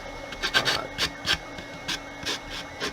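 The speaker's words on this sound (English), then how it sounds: "it's not too much of your time to sand this stuff off" Resin model parts of a Star Trek Defiant being sanded by hand, close and distinct, in short irregular rasping strokes about two or three per second.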